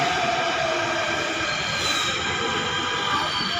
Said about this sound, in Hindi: तो दोस्तों मेट्रो आ गई है